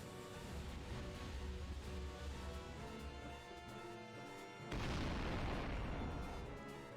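Heavy cannon blasts from Junon's massive artillery in Final Fantasy VII, a dense game soundtrack of rumbling booms with a louder burst of firing near the end, continuous and loud without speech.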